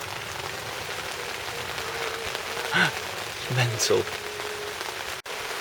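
Steady rain patters on a surface outdoors during a camping trip, a continuous wash under a faint spoken word.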